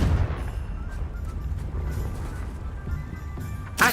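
Spell blast from the Confringo curse in the Hogwarts Legacy video game: a dense, rumbling low-heavy roar sustained throughout, ending with a sharper burst of crackling noise at the close.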